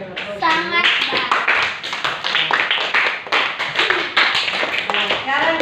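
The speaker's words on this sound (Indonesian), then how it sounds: "Ya, kita berikan aplaus." Classroom applause at a teacher-training lesson, with a steady round of hand clapping from a group of students and a voice calling out over it.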